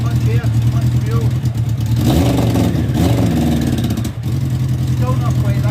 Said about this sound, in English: You hit the throttle, you get a wee bit of revs there.